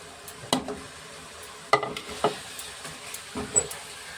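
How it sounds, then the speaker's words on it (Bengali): Yogurt-marinated chicken for chicken Patiala goes into a hot pan and is stirred, giving a soft background sizzle broken by several sharp scraping and clattering stirs close by, with no talking. "এবার দই মাখানো চিকেনটার মধ্যে দিয়ে দিই ম্যারিনেট করা চিকেনটা দিয়ে দিলাম"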